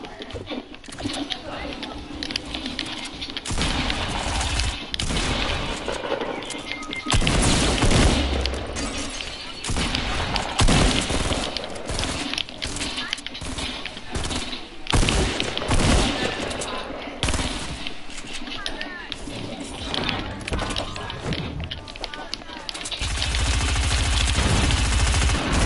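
Rapid bursts of video game gunfire, machine-gun fusillades and booms, loud and nearly continuous, with a player talking over the shooting.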